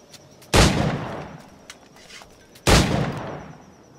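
Two loud, close gunshots from a firearm in Assassin's Creed 4 Black Flag, spaced about two seconds apart, each a sharp blast with a short decaying tail over quiet ambience.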